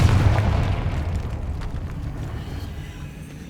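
The Confringo explosion spell going off in the video game Hogwarts Legacy, a loud rumbling blast that fades slowly, with game speech overlapping.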